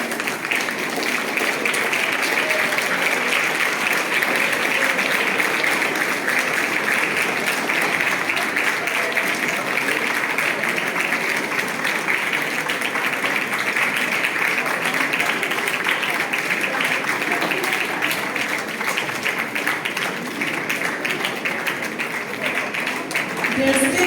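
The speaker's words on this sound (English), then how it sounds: "So we can keep clapping as they receive the token of love" An audience at a Teacher's Day event claps steadily for the teachers as they receive gifts, a dense, continuous wash of applause that fills the whole stretch, with voices mixed in.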